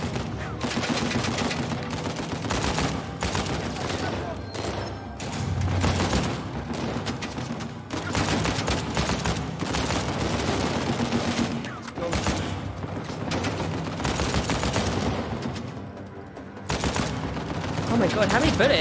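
Dense, sustained gunfire from the Uncharted 4: A Thief's End video game, rapid overlapping shots and bursts filling the whole stretch at loud, steady intensity, with some speech mixed in.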